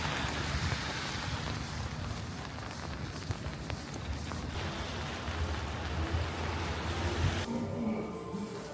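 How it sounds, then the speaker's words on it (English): Heavy rain pours down steadily in a dense, continuous wash of noise, loud and close throughout, with no voices over it. "it just starts pouring as soon as I need to leave"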